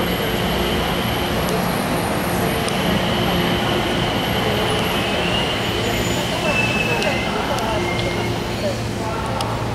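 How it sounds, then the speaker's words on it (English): AeroTrain people mover at Washington Dulles International Airport pulling into a station, a steady loud rumble of wheels with faint squeals, under a recorded announcement voice. "The train is arriving. Please stand clear of the doors."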